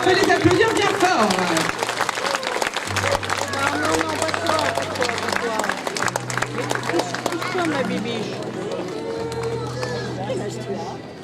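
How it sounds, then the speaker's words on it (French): A crowd at an outdoor costume parade in Chanaz claps for masked performers whose costumes draw on Mexican dancers. The clapping is steady, under someone talking over a loudspeaker and sustained low music. "Bravo, eux, on peut les applaudir bien fort."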